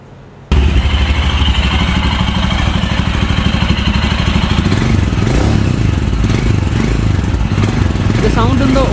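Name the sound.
Royal Enfield Himalayan Scram 411 motorcycle engine running, stock exhaust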